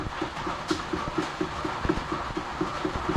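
Rapid, even mechanical clicking repeats about four times a second, a steady metallic ticking of differential gear teeth meshing as they turn by hand, close and clear.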